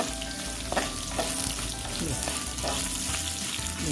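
Coriander seeds and dried chillies roast in a pan for a jackfruit masala curry, making a steady crackling sizzle with scattered stirring scrapes and clicks, close and moderately loud, no voices.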